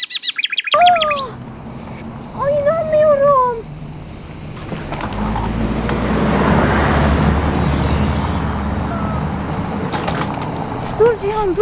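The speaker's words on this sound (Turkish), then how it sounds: "Otobüs geliyor." A bus approaches along a road near Fethiye, its engine rumble and road noise swelling steadily over several seconds and then holding, with sharp bird-like chirps and squeaks heard early on and at the end.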